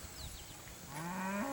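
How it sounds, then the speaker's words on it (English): A cow on a farm, with a bull nearby, lets out a long, rising moo that builds in loudness toward the end, clear and fairly close with no one speaking. "Daisy, the bull's following Daisy"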